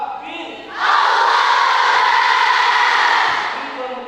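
A large seminar crowd erupts in a loud, sustained collective shout of takbir, a dense roar of voices that swells up, holds steady for nearly three seconds, then fades into softer voices.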